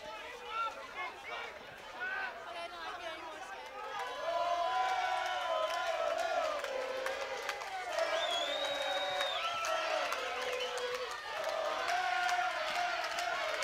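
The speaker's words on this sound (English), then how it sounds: "you can hear the crowd cheering you in the CAERAU Social Club" Crowd cheering and shouting fills the Caerau Social Club during an amateur boxing show bout, a dense, steady roar that swells louder midway while a commentator talks over it.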